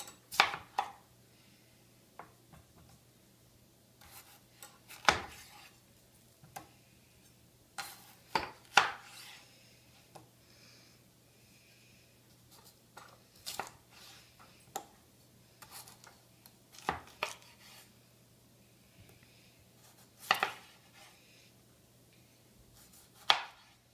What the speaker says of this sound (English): Then I'll cut them into quarters.